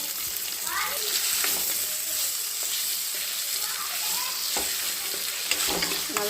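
Ginger garlic paste sautéing in a pan with tomatoes while making a mushroom coconut kurma, giving a steady sizzle with occasional stirring scrapes throughout, a voice briefly heard in the background.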